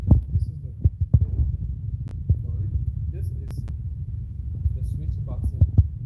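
A household reverse osmosis water system running just after being switched on, giving a steady low hum with soft throbbing pulses and a few faint clicks, close by and continuous.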